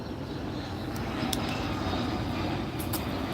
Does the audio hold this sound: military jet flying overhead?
yes